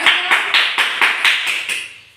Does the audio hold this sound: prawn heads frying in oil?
no